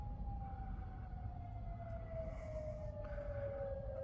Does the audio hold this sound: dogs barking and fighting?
no